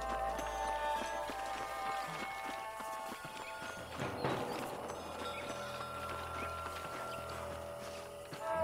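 Horses galloping in Red Dead Redemption, a steady rhythmic clip-clop of hooves under game ambience and music, fairly faint with a louder rumble midway.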